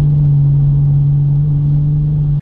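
A tuned Audi car engine idles steadily in a hangar, a loud continuous low hum with a strong even drone throughout, heard alone without talk.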